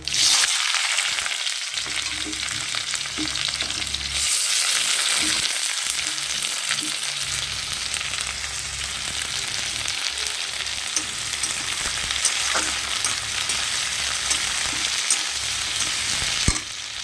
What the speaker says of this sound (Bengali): দিয়ে পেঁয়াজগুলো এবার আমি ভেজে নেব।